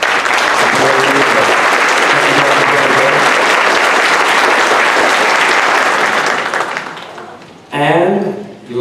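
Audience at a high school choral fall concert claps loudly and steadily for several seconds before the applause fades, and then a voice begins speaking.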